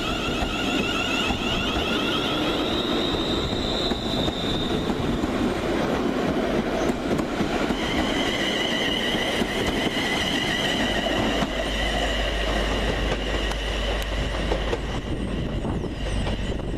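A Class 380 electric train runs close by at East Kilbride station, a steady rumble of wheels and carriages with high squealing tones and clicking over the rails, and a low hum building near the end.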